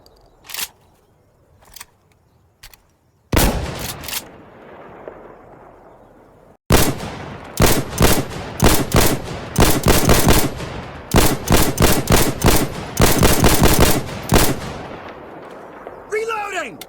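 Video game weapons fire from Insurgency Sandstorm, a few sparse clicks and shots at first, then a loud single blast, followed by a long run of sharp repeated gunshots in quick clusters, with a brief voice near the end.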